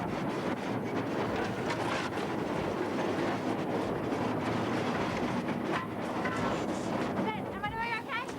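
Continuous rumble and rhythmic clatter of the Kingston Flyer steam train rolling along the tracks, loud and close, with voices occasionally audible over the noise.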